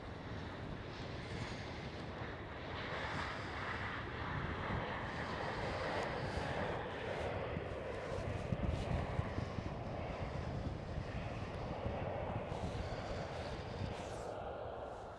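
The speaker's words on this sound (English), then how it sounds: "Right over here we do have another German Airways E190 flying for KLM" A German Airways Embraer E190 operating for KLM Cityhopper passes over Schiphol Amsterdam, its jet engines a steady distant roar blended with wind noise on the microphone.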